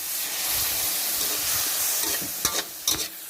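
Onion stir-fried in a hot pan for a Thai curry-powder shrimp dish, a steady loud sizzle and hiss with a few sharp scraping clatters of the spatula near the end; no talking.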